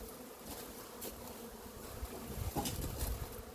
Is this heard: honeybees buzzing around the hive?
yes